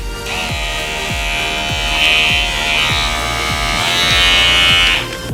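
A Kemei electric hair clipper fitted with a Wahl blade runs with a loud, steady, close buzzing hum. It switches between its slow and turbo speeds and rises in pitch on the faster setting, with no talking over it.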